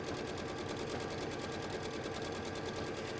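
A domestic sewing machine stitches down a seam on a lined hat, humming in one steady, continuous close whir without any break.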